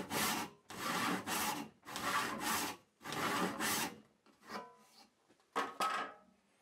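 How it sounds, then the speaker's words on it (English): A hand saw cuts wood for a mitered corner box, worked in from one corner of a piece held in a vise: four long rasping back-and-forth strokes, then a few shorter, fainter ones, close and alone. "I start the cut by working in from one corner."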